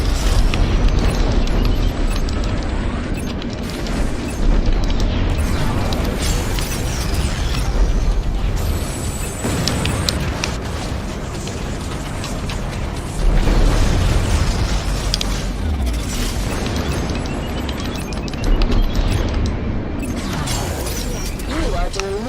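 Spaceships blow up in a space combat battle in Strike Suit Zero, a continuous roar of booms and rumbling bursts with swells of louder blasts across the whole stretch.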